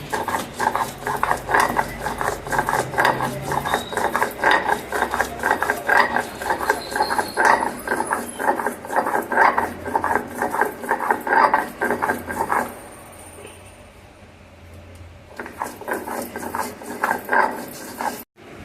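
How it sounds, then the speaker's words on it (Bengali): Cumin is ground into paste on a stone grinding slab (shil), making a rhythmic, repeated scraping and rasping of stone on stone in quick strokes that pauses briefly near the end and resumes. "জিরে মশলাটাকে আমি বেটে নিই শিলে"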